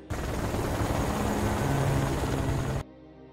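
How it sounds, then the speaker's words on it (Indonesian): Loud, steady broadband roar of a low-flying helicopter, a dense rotor-and-engine wash lasting almost three seconds before cutting off abruptly. "Karena helikopter dari tim tentara bayaran itu terbang rendah"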